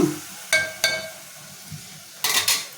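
A metal spoon scrapes and clinks in a pan while a tomato rice mixture fries in oil, three sharp stirring strikes over a faint sizzle, close and loud.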